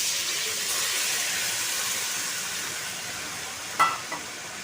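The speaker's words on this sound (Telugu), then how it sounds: "ఇప్పుడు మనం ఇందులో చింతపండు రసం వేసేసుకుందాం" Tamarind juice poured into simmering brinjal curry: a steady, loud broadband sizzle and hiss throughout, with a brief sharp clatter near the end.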